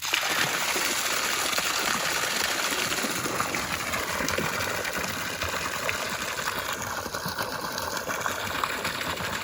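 A water line runs inside a crocodile enclosure, a continuous broad rushing and splashing hiss of flowing water, steady and close throughout with no talking.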